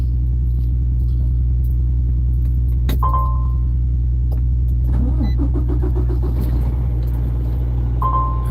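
A pickup truck engine that struggles to hold its idle at a mild temperature rumbles steadily and loudly throughout, with brief key jangles and small clicks over the constant low drone.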